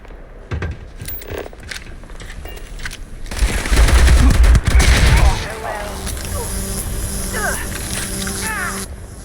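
Zapper energy weapon firing in the game Starfield, a dense burst of crackling automatic fire swelling loud for a couple of seconds amid ongoing game noise and scattered electronic chirps, with a voice speaking over parts of it.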